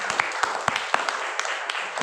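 Audience applause at a sales seminar, a short burst of scattered clapping, fairly close and moderately loud, with a few sharper individual claps standing out.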